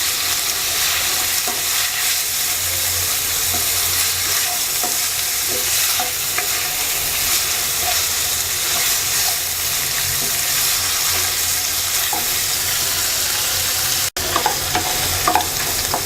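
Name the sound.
chicken frying on low heat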